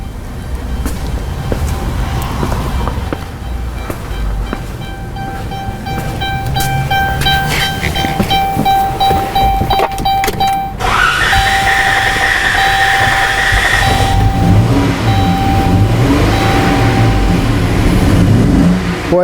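A 2014 Chrysler Town & Country with a 3.6-liter engine runs with a misfire, its engine droning steadily and roughening up partway through, with tonal whines and clattery mechanical noise throughout, close and fairly loud.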